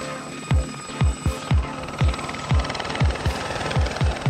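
Gazelle helicopter at an airfield near Romford, its rotor beating in a steady rhythmic thump of about two blades per second, close and clear with engine whine underneath.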